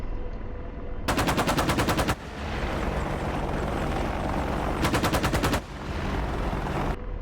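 An Apache helicopter's cannon fires in DCS World, two loud sustained bursts of rapid rounds, each about a second long, over a constant heavy rotor and engine drone.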